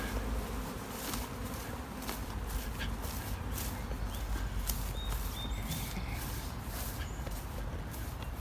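A honey bee swarm gives a dense, continuous buzz that is fairly faint and steady throughout, with outdoor ambience around it and a few higher whines from individual bees.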